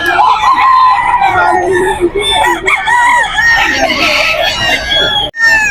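Bull stag rooster about 18 months old crowing loudly and close at a poultry gathering in Bocaue, Bulacan, with several overlapping crows and clucks from nearby fowl and people talking underneath.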